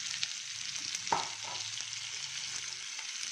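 Ivy gourd with green chili, coconut and cumin sautés in a pan, holding a steady, soft sizzle with one brief scrape of a stirring spoon near the start and no talk.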